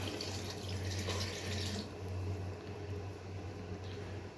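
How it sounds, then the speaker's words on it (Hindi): Water pours steadily into a pot of potato and meat curry, a continuous splashing rush over a low background hum. "अब यहाँ पे हम इसमें पानी ऐड कर देंगे।"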